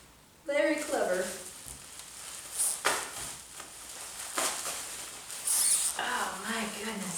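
Packing peanuts rustle and crunch in uneven bursts while a Victorian glass dome is unpacked, with short scratchy swishes and pauses in between, fairly close and moderately quiet.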